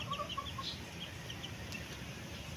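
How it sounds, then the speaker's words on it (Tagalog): Faint high peeping of young Super Texas chicks, several short chirps overlapping against a steady low background hum, no voices. "Ito nga pala yung ating mga quality sisiw sa Super Texas."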